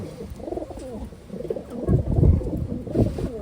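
Taiwan pigeons cooing close by in a low, throaty rolling pattern, several overlapping coos swelling louder toward the middle and end, with no voices.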